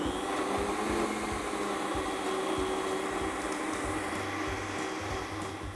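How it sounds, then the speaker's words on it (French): A kitchen blender whirs steadily as it purées mango and watermelon slices into juice, a loud, even motor drone that runs throughout with no talk over it. "nous allons les mettre dans le mixeur avec les tranches de pastèque pour obtenir un jus homogène"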